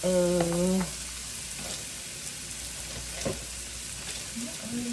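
Garlic powder, paprika, sazon and onion powder fry in melted butter in a pan, giving a soft, steady sizzle after a brief spoken voice at the start.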